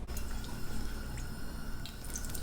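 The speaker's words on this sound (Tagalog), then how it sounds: "Konting mantika, 2 kutsarang mantika po." Two spoonfuls of cooking oil go into a pan for a broccoli and mushroom noodle dish. Soft, scattered drips and light liquid patters sound close but quiet over faint room hiss.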